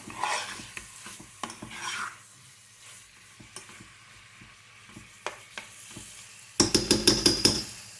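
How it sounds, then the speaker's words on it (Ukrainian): Spices sizzle softly in a pan for a stew, with intermittent scraping and stirring, ending in a louder burst of clattering metal strokes near the end. "Коли спеції смажаться, вони е, дають особливий аромат."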